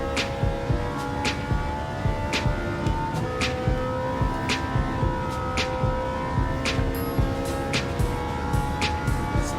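Ferrari F40 in Gran Turismo 7, a sustained engine note held at steady revs with short regular clicks of shifting or track noise laid over it, continuous and fairly loud.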